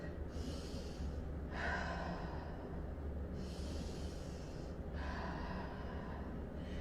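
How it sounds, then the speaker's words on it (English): Slow, deliberate exercise breathing: two long airy breath cycles, each a drawn-out inhale followed by a sustained exhale, close to the microphone over low steady background hum. "So I'm now going to do some breathing."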